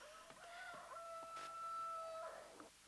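A speckled rooster crows once in a drawn-out, fairly quiet cock-a-doodle-doo, rising and holding before trailing off, heard alone in a scene from an old Turkish film.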